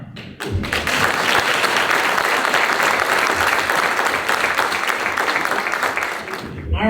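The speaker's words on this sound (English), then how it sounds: "All right, let's give another hand clap for Jay." Loud, full audience applause for a performer named Jay at a Black History Month family festival, dense clapping sustained from just after the start to near the end.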